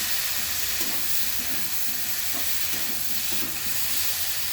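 Prawns and taro cook together in a hot pan for a Bengali curry, giving a dense, continuous sizzle and hiss with faint stirring scrapes, close and steady throughout.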